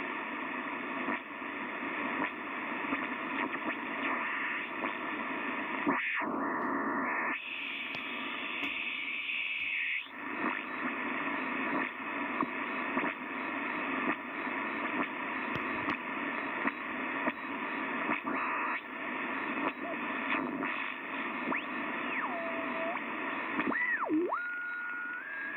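Shortwave radio hiss and static on a Yaesu FRG-7700 receiver, with a wavering carrier tone, faint distorted signals and occasional whistling sweeps, steady and continuous throughout.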